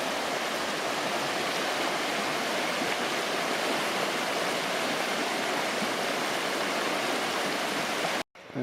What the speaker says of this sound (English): River's flowing from that direction and heading down this way.